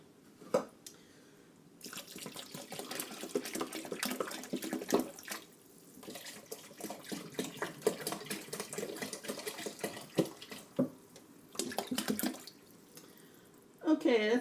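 Bottled water pours into a soup pot for vegetable soup in a home kitchen, a steady splashing stream with a few breaks as the bottle tips, close and moderately loud.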